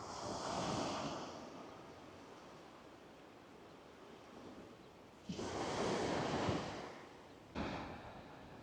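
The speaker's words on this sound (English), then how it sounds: "And we're here where the waves are breaking in." Ocean waves breaking on a shore beside a pier, a steady broad wash of surf with two fresh surges crashing in near the end, with some wind noise on the microphone and no talk.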